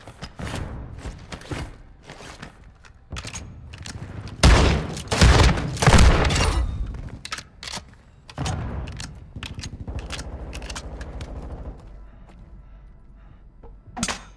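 Incoming gunfire in the Call of Duty DMZ video game: bursts of automatic shots and heavy thumping impacts, loudest in a dense volley midway, with scattered shots before and after.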